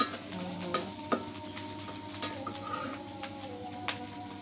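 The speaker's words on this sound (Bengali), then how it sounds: "নুন রসুন পেঁয়াজ বাটা আর হলুদের গুঁড়া হয়ে গেছে মশলা কষানো" A ground paste of salt, garlic, onion and turmeric being stir-fried in a pan, a soft continuous sizzle with the spatula scraping and tapping against the pan every second or so, close and without talking.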